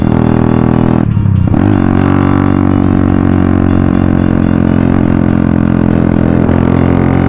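A Honda Dream 150 motorcycle heavily loaded and climbing a steep mountain road to Phu Thap Boek in Phetchabun, its engine droning loud and close, with a brief drop in revs near the start before steadily labouring on.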